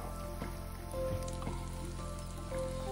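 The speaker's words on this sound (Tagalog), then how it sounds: "maaari na nating iprito ang ating lumpia" Banana lumpia, turon spring rolls wrapped with banana and brown sugar, frying in hot cooking oil: a steady soft sizzle with faint popping crackles, close and alone.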